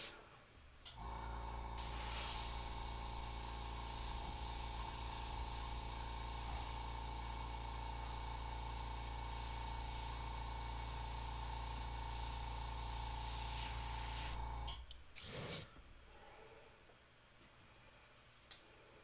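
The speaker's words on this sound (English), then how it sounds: "I am spraying the most minimal amount of paint possible." Airbrush spraying paint gives a steady, loud hiss with a constant underlying hum for about fourteen seconds, then cuts off abruptly, followed by a brief burst and quiet.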